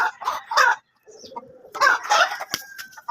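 A neighbour's chickens cluck in short bursts, with a rooster crowing nearby. The calls are fairly loud and close, separated by brief pauses.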